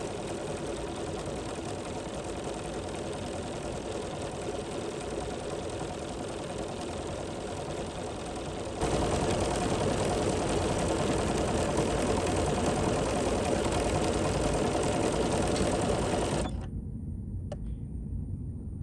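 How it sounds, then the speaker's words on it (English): A Bernina 770 Plus sewing machine runs a thick triple stitch on a zippy circular bag in one long continuous hum that gets louder partway through, then stops abruptly near the end. "on our Bernina 770 Plus, we can go into the little magic eye button and we can activate triple stitch"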